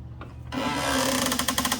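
A power saw cuts into wood for table legs, starting abruptly after a moment of quiet and then holding a steady, harsh buzzing whine with rapid rasping pulses, close and loud.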